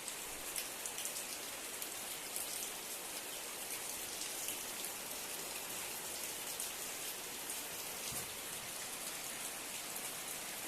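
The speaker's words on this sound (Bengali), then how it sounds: "বৃষ্টি পড়ছে" Heavy rain falls steadily outdoors in a garden by a guava tree under cloudy skies, a soft, even hiss of drops throughout with no voices.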